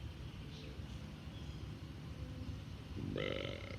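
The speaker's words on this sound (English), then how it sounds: "Try not to burp on the radio, it's annoying." A man lets out a burp over a ham radio transmission, a short low rumbling belch near the end after quiet radio background.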